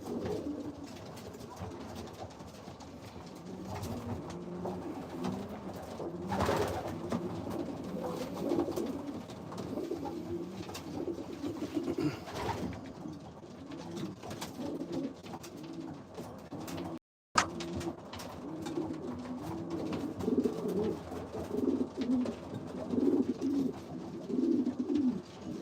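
A loft of racing pigeons makes soft, continuous cooing and rustling. The sound stays fairly quiet and steady, with no talking, and drops out for a moment partway through.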